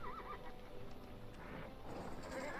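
Horses whinny in the fantasy strategy game Battle for Middle-earth, a wavering neigh near the start over a steady bed of game ambience and muffled background noise.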